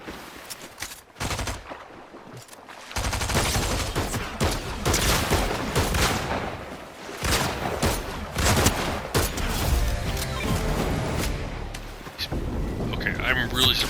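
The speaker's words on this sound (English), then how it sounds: "People are shooting at me." Rapid gunfire in the Fortnite video game during a ranked match, with dense bursts of automatic shots and explosions that are loud and continuous over about fourteen seconds, mixed with a player talking.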